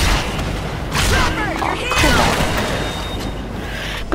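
Turrets firing in the video game Evolve, a series of booming shots and blasts with electronic whines, loud and close under game noise with a voice talking.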